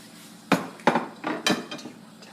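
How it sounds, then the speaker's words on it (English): A pan set down into a sink lets out several loud, close metallic clanks and knocks in quick succession, ringing briefly after each hit. "And then I put the pan in the sink."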